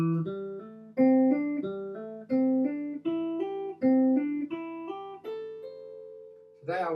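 Guitar hammer-ons climb a minor pentatonic scale across the strings, each picked note followed by a smooth hammered second note in a steady, even rhythm, played cleanly up close with no talk over it.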